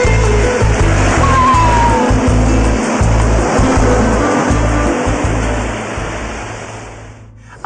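Ocean waves crash against the shoreline on the Nicaraguan coast, a loud, broad, continuous rush of surf with rolling low surges that fades gently near the end.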